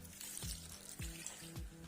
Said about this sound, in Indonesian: Siram dengan air secukupnya.